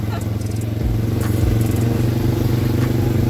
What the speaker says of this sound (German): Quad Fahrt, ja, auf Lombok